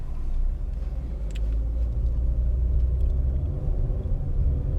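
Steady low rumble inside a Chevrolet car cruising on the road, a continuous engine and road drone with no talking.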